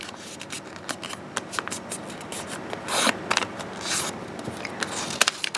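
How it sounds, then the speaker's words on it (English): Crisp paper rustles, creases and scrapes as a square of origami paper is folded in half diagonally and repeated, in quick close handling with brief sharp crinkles for a spiky sea urchin kusudama ball module. "Fold it in half diagonally. Repeat on the other side."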